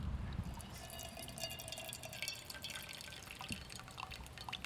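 Hot pour-over coffee trickling and dripping steadily as water is poured slowly in circles outdoors in winter, a soft continuous liquid patter that stays faint throughout with no talking.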